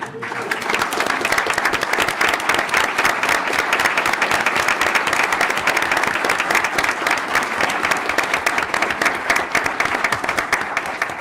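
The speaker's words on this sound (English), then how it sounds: "stand for a round of applause with me" A round of applause fills a board committee meeting room, steady dense clapping from many people sustained throughout at a loud, even level.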